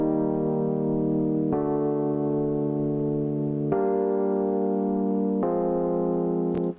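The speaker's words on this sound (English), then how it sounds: "This piano sound is the electric piano from Spitfire Labs." Electric piano chords from the Spitfire Labs instrument, four sustained chords changing every second or two, full and loud, ending with a short cutoff, with no voices.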